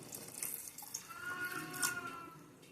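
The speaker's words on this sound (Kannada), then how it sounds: "1 ಲೋಟ ಅಕ್ಕಿಗೆ 2 ಲೋಟ ನೀರು ಹಾಕ್ತಾಯಿದ್ದೀನಿ" Water poured into soaked rice and coconut milk for chicken biryani, a steady near pouring and splashing for about three seconds with a few brighter splashes, with no talk.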